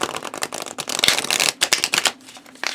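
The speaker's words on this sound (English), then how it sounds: "it's very flexible, very easy to shuffle. I'll do a little example for you here." A deck of tarot cards made of flexible, swishy matte cardstock is shuffled, giving a quick run of papery riffling bursts that come in rapid clusters close by, with short pauses between.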